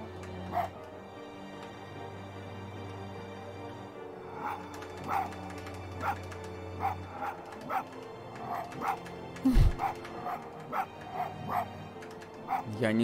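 A fox in the video game Spirit of the North barks in short, repeated yips roughly every second, fairly close and clear over a low, steady ambient drone.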